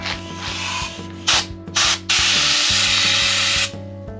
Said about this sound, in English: I'm going to go ahead and run the new Central Machinery sandblaster